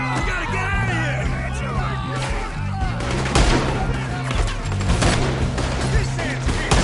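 Rapid gunfire in the video game Red Dead: bursts of shots and fusillades crackle over a loud battle scene with a low rhythmic music bed and scattered shouting in the background.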